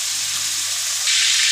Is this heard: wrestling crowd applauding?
no